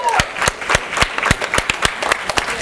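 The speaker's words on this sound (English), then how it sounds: "Round of applause for our action takers" Scattered hand claps ring out in an uneven rhythm, a small group applauding nearby at a live talk, sharp and distinct rather than a dense crowd roar.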